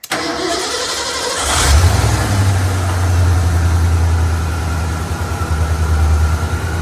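An old Ford engine, freshly tuned up, cranks briefly and catches, then settles into a loud, close, steady idle with a low rumbling throb and slight pulsing, no voices.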